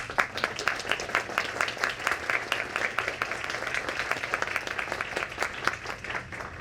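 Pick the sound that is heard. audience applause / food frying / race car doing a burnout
audience applause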